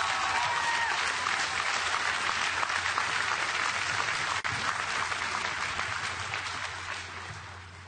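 Applause at a university commencement ceremony for a student receiving an academic excellence award, a sustained crowd of clapping hands that holds steady and then slowly tapers off toward the end.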